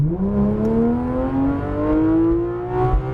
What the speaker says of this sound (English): now get that wheel straight and go full throttle here, as fast as you want